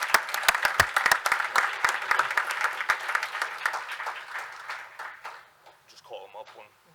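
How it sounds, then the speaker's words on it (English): Applause for a school wrestling team at a township board of education meeting, scattered individual claps from a modest crowd in a room, thinning out and fading, with brief talk near the end. "So give a big round of applause to the rest of the team."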